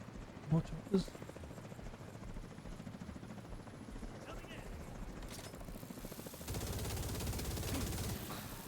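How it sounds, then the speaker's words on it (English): Helicopters in the video game The Division 2, a rotor rumble that grows louder and denser in the second half, mixed with game gunfire clatter and a couple of sharp impacts, with a player talking over it. "More choppers."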